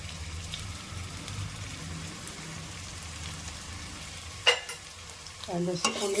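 Quiet, steady sizzling of coriander, mint and ginger-garlic paste sautéing in a pan for vegetable rice, with a couple of sharper clinks of a utensil near the end.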